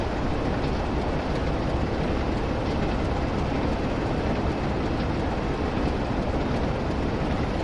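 A train rumbling through the long Morley Tunnel in Train Sim World 2, a loud, dense, unbroken roar of wheels and engine noise that holds steady throughout, with no voices over it.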